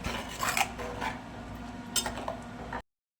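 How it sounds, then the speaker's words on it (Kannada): Fish green masala is stirred in a pan, with a spoon scraping and clinking against the metal in uneven strokes. Close and fairly quiet, with no voices, and it stops abruptly. "ಇನ್ನೂ ಚೆನ್ನಾಗಿ ಮಿಕ್ಸ್ ಮಾಡ್ಕೊಳ್ಳೋಣ."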